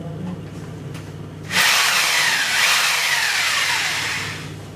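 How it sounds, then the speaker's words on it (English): A drill suddenly starts after a quiet moment, whining loudly and steadily as it bores mounting holes for a kitchen chimney range hood, its pitch shifting slightly as it cuts. "we will use a drill machine"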